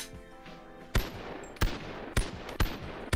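A .50 cal gun firing in BONELAB, four or five loud single shots spaced about half a second apart, each a sharp close crack with a brief echo over low background noise.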